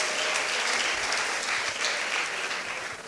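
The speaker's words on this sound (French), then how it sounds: "Est-ce que tu peux acclamer pour le Seigneur?" A church congregation applauding and cheering for the Lord, a dense, continuous wash of clapping from many hands that holds steady and fades slightly at the end.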